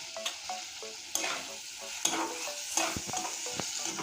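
Ground spices such as turmeric and coriander powder frying in oil in a pan, with a soft continuous sizzle broken by periodic scraping stirs and clacks of the spoon.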